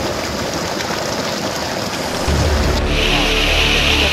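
Bahubali waterfall flowing in a forest of a tiger reserve, a loud continuous roar of rushing water that swells and deepens partway through, with no talking.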